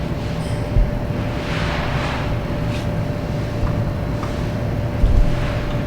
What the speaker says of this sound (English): now I'm just going to trigger the gun. We'll increase the pressure a little bit.